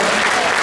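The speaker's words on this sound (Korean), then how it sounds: "목사님을 위하여 박수 한번 해주십시오." An audience at a prayer meeting in Busan breaks into brief, dense applause for a pastor, loud and close, with no talking over it.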